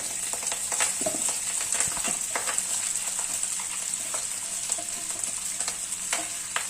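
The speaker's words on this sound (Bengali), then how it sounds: "ঘি দিয়ে ফোড়নের সঙ্গে চালটাকে আরও দু মিনিট ভেজে নেব" Rice frying in ghee with bay leaves, cinnamon and cardamom, giving a steady close sizzle broken by frequent light clicks and scrapes as it is stirred.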